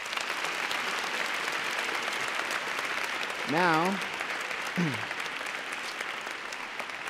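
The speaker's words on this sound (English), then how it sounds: "please give another round of applause" An audience applauds steadily at an event honoring seniors' testimonies, a continuous clatter of many hands close by, with a voice speaking briefly over it.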